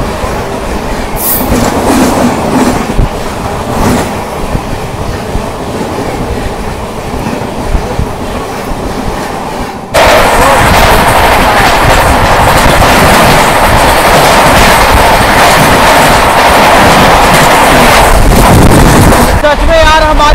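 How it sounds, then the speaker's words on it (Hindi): The Amrit Bharat Express from Saharsa to Mumbai runs at about 130 km/h, making a loud, constant roar of wheels and rushing air with rhythmic clatter. Halfway through, the noise jumps even louder and stays there. "सच में यार हमारी ट्रेन इतनी तेज चल रही है ना, अभी इतनी तेज चल रही है ना, पूरी 130 की फ्लैट स्पीड से चल रही है।"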